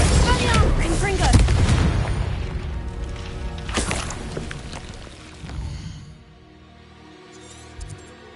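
Confringo explosive spell cast in Hogwarts Legacy, a loud booming blast with a crackling burst that fades over a few seconds, followed by quieter game sounds.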